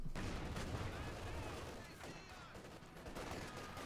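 Machine gun fire rattles in a Company of Heroes 2 battle, with bursts and scattered shots blending into a dense wash of gunfire and explosions.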